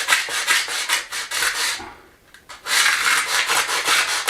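Sanding an old empty trough, loud close rhythmic rasping strokes in two bursts separated by a brief pause.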